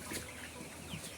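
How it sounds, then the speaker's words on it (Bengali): Hens on a poultry farm cluck softly beneath a cage under construction, a brief faint burst of clucking over low background noise. "এটাই মুরগিগুলো নিচে আছে"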